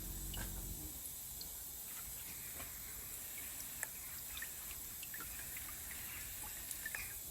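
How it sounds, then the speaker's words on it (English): Brake cleaner is sprayed to rinse the sump area under a Mini Cooper R56. A faint, steady hiss is joined by soft trickling and drips, after a short low thump at the start. "I'm gonna rinse it anyway. I'm using some brake cleaner, by the way."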